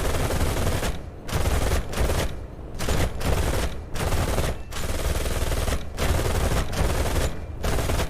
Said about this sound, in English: we've gotten our cannons onto him 3 times now